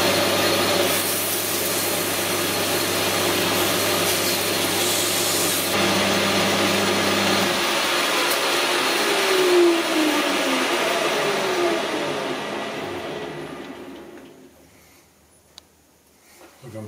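Lathe spinning a newly made post hole digger output shaft while it is polished, a steady machine whir and rubbing hiss that shifts partway through, then winds down and fades to near silence at the end.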